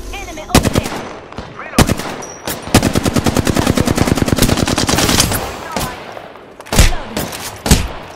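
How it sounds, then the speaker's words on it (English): Loud gunfire in a shooter video game, with scattered single shots followed by a sustained rapid automatic burst and a few more isolated shots, amid game ambience and some voice chatter. "Listen up, I'm getting shot at."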